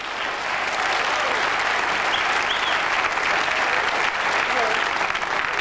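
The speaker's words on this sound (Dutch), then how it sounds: "mag ik u applaus voor Jempie de Wachter." A studio audience on a Dutch television show gives a steady, even round of applause as a guest is welcomed, many hands clapping at a constant level throughout with no pause.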